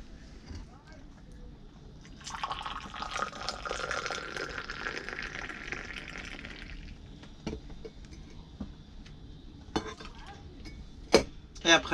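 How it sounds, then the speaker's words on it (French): Moroccan mint tea being poured from a glass back into the teapot two or three times to mix, a sustained liquid pour in the middle followed by clinks of glass and metal, while a voice speaks over it. "remettre le verre dans le thé et 2-3 fois comme ça, on l'appelle raja' atay"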